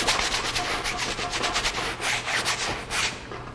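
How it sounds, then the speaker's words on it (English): A paintbrush scrubs color onto a landscape painting in loose, random strokes, making a close, continuous dry rubbing and scratching with a quick back-and-forth rhythm and no voices. "I want to practice laying in kind of a random brush stroke and just scrubbing in a color"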